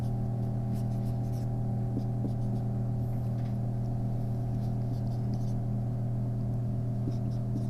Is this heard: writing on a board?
yes